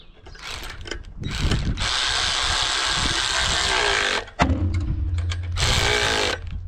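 A ratchet mechanism is cranked tight during calving, making loud, close, rapid clicking in two long runs separated by a short pause. There is no speech.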